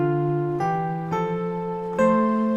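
Piano plays a simple local hymn melody harmonized with chords, a few slow, distinct struck notes and chords ringing clearly one after another, close and alone.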